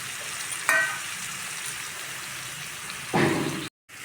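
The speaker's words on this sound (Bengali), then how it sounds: "ম্যারিনেট করা মাংসটা আর আলুটা দিয়ে দিচ্ছি" Marinated meat and potatoes frying in spices in a pan, a soft steady sizzle with two brief louder hissing bursts as food shifts, cut off abruptly near the end.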